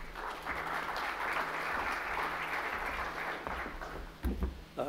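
An audience applauds to welcome a speaker at a talk, with steady, dense clapping for several seconds that thins toward the end, with a few louder thumps at the close.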